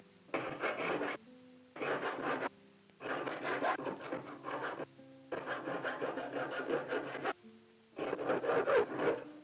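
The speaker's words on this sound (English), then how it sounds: "The knife master then finishes the head of the handle by filing it." A file rasps across the wooden head of a Finnish knife handle in a steady series of about five close strokes, each a rough scraping burst separated by short pauses.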